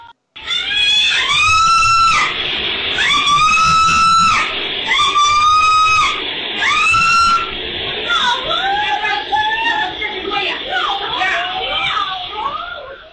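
A woman screams repeatedly in loud, piercing bursts at a thief during heavy rain, followed by shorter wavering cries, close and alone.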